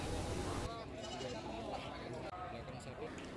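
Sacrificial livestock at a local animal market in Ngawi, with sheep or goats bleating repeatedly amid a busy crowd, under steady market chatter and a news voice.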